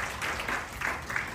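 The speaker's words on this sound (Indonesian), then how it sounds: "Beri tepuk tangan yang meriah bagi Allah." Congregation clapping during a church sermon, a dense continuous patter of many hands at moderate level, swelling in pulses through the short burst.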